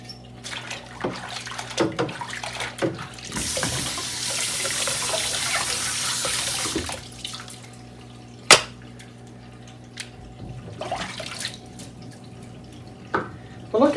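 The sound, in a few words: tap water running to rinse Shark Navigator vacuum parts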